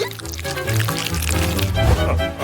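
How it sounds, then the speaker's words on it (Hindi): Waffle batter pours into a waffle maker in a kitchen, giving a soft, continuous liquid glug and trickle up close, with faint voices in the background. "मुझे थोड़ा बैटर चाहिए। इसे खोलें और इसे वॉफल मेकर में डालेंगे।"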